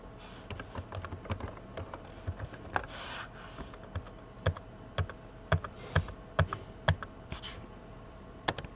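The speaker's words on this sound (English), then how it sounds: "We can type in our address." Someone types an address on a computer keyboard, producing close, irregular bursts of crisp key clicks with short pauses between them and a soft room hiss underneath.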